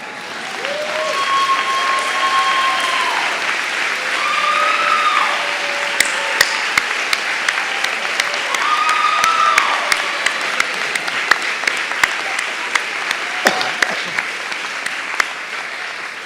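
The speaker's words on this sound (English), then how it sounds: "give a round of applause to the family and friends who have so supported them." Audience applause at a university undergraduate diploma ceremony, steady and sustained clapping from a large seated crowd filling the hall for the whole stretch, with occasional sharper individual claps standing out.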